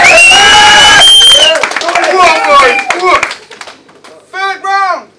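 Loud crowd noise with clapping and shouting, a voice rising over it, then the din fades into a brief pause before more raised voices.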